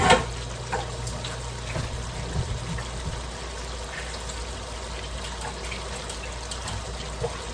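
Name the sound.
draining liquid from mushrooms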